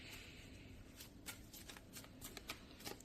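Tarot cards being shuffled by hand, a soft continuous riffling and sliding with brief crisp flicks, close and fairly quiet, no talking.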